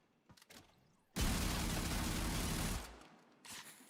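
Automatic gunfire empties a full magazine in one unbroken burst of about one and a half seconds, loud and dense, with brief quieter clicks and handling noises before and after.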